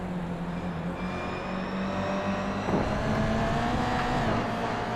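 Onboard engine note of a GR86 race car in a racing video game at Twin Ring Motegi, a loud steady drone that climbs in pitch through gear changes, with a brief scrape midway.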